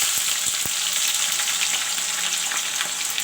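Cut onion frying with khara garam masala for a chicken curry, a loud dense sizzle filling the pan continuously, with a couple of sharp knocks near the start.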